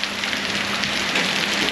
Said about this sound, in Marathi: बघा पाऊस वाढला, आता अजून वाढला